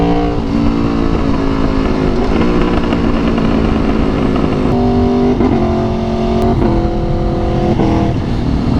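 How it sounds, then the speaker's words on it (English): Motorcycle accelerating hard with a quick shifter, engine revving loud and close with several rapid upshifts, each marked by a brief break and a slight clunk before the revs climb again. "So that's the quick shifts, and you notice it had that slight clunk."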